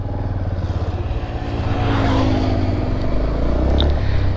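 A Bajaj Platina 100cc motorcycle on a long solo road trip revs up loud and close, its engine climbing in pitch to a sustained buzzing roar.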